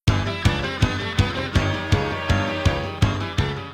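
The closing track of a debut album drives along on a steady, punchy beat that strikes about every half second under layered instruments, loud and alone.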